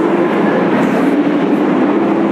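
Passenger train at a German station, a loud steady rumble and roll of the cars, with no voices.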